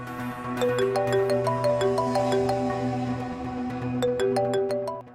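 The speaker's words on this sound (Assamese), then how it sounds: "মোৰ অফিচৰ পৰা ফোন এটা আহিছে" An electronic phone ringtone plays a repeating melodic tune, loud and clear, looping twice with a brief gap between phrases.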